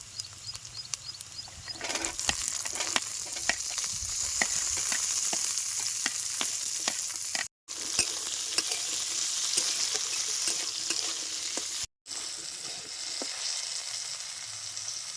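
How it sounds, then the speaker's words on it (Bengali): Chopped long beans fry in a wok with onion and ginger, a dense loud close sizzle with frequent sharp stirring clicks and two short gaps, no talking over it. "এবারে দুমু কাইটে রাখা বরবটি"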